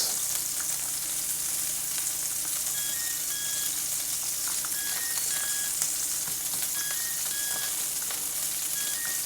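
Steak searing in a hot pan, a steady bright sizzle and crackle of fat that holds without letup, with a few faint metallic clinks and no one speaking.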